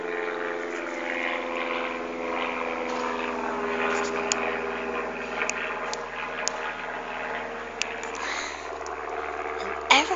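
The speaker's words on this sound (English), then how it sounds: "Plane just passed my garden." An airplane passing over a garden, a continuous droning engine rumble that holds steady throughout, with occasional small clicks and knocks nearby and speech-like sounds in the mix.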